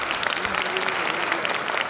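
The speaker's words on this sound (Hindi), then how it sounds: "एक बार पुनः इन बच्चों के लिए तालियां" An audience at a Bundelkhand University Republic Day celebration claps steadily for students, a dense, even round of applause indoors.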